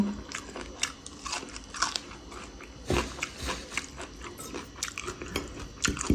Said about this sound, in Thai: ชิมผักอันนี้ก่อน